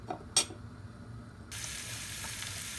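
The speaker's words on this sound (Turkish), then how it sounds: "yine kaynamaya başladı" A pot of mendek herb stew simmering on the stove, a steady soft bubbling hiss that grows fuller partway through, with a brief clink of a utensil near the start.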